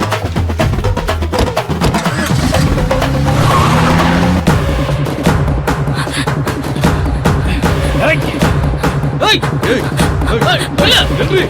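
A car in a Tamil TV serial chase scene pulls away fast with squealing tires, its engine noise mixed with talking and background music throughout.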